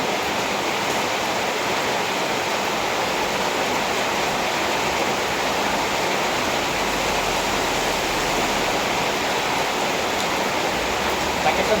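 Steady, dense broadband hiss of heavy rainfall, constant and loud throughout with no pauses.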